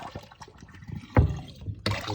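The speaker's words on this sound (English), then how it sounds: "we're gonna dump this water and we're gonna rinse them in some clean fresh water here" Used Audioquest Nighthawk headphones sloshed and rinsed in clean fresh water, with soft liquid splashes, a sharp louder splash midway and a final burst of running water.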